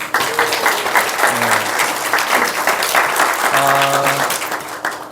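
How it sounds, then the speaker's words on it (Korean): Congregation applauding steadily throughout a Wednesday church worship service, dense continuous clapping with a few sung or hummed tones rising over it. "다시 한번 박수 주세요."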